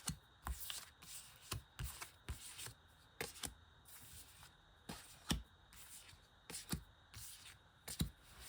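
Playing cards being shuffled and laid down on a table, a run of crisp riffles and soft slaps at an irregular pace, close and quiet, with faint speech.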